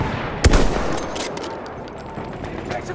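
An enemy machine gun opens fire in Battlefield 1, with one sharp close burst of shots followed by scattered distant gunfire and battlefield noise.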